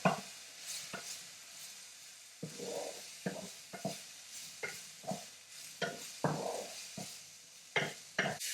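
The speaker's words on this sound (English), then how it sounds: "I don't want the bacon to be burned, so I keep stirring it a little bit" Bacon pieces sizzling in a pan with a soft hiss beneath repeated sharp scrapes and taps of a utensil, stirred in short irregular strokes throughout.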